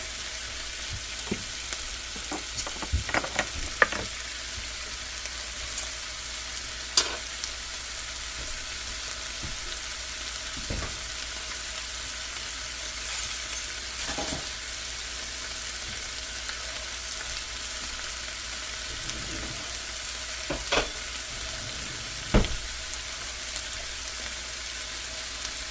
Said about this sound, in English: Now frying it gives it that cooked, fried taste